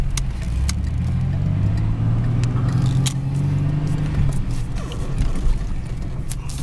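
Car engine droning steadily from inside the moving vehicle as the driver gives it some gas, a low rumble with occasional clicks and knocks over the road noise and no talking.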